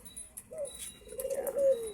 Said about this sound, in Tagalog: Update po tayo sa mga ibon.